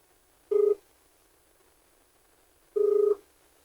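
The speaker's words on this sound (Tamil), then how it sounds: "ஜாதகதாரருக்கு ஃபோன் பண்ணுறேன்." Outgoing telephone call ringing back, two steady electronic ring tones about two seconds apart over a quiet line hiss.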